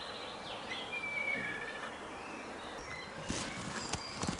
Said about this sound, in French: On attend et on écoute les oiseaux.